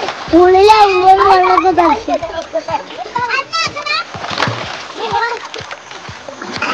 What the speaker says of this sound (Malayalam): വെള്ളം തെറിപ്പിക്കല്ലടാ,